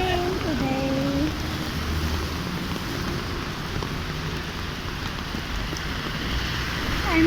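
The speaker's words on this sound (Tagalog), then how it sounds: "a heavy rain today" A heavy rain pours outdoors as a dense, steady hiss, loud and close, with a few faint tonal sounds early on.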